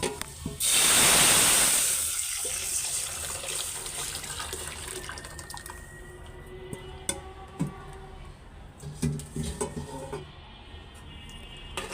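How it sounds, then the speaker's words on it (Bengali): Lentils are poured into hot oil with fried garlic and five-spice tempering, bursting into a loud, rushing sizzle that eases into a softer, lingering hiss, broken by scattered light clatter from the pot. "তো রসুন আর পাঁচফোড়নটা ভাজা ফেলছি তো ডালটা দিয়ে দিই এখন"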